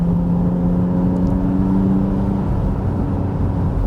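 A car engine idles steadily with a low, throaty hum and a constant drone, close by, with no voices.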